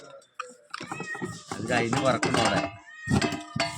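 A cat meows a few times close by, mixed in with people talking over it.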